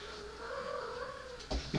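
A cat meows in a drawn-out, wavering call lasting over a second, close and fairly clear, followed by a couple of brief knocks or bumps at the end.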